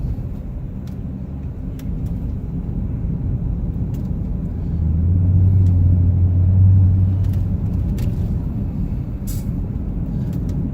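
Supercharged engine and exhaust of a 2009 Cadillac CTS-V, a steady low rumble that swells briefly mid-clip before settling, fairly close with no talk.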